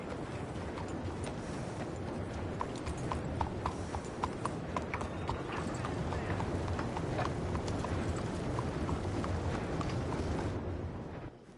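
Horse hooves clip-clop in a steady rhythm, close and clear, over a continuous low rumble of ambient noise, in the video game Red Dead Redemption 2.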